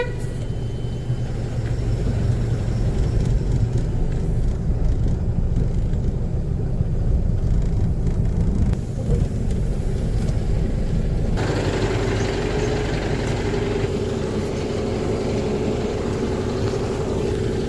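A loaded truck rolls onto a weighbridge with a heavy diesel engine rumbling and idling close by, a steady low drone throughout with a slight shift partway through, and no voices.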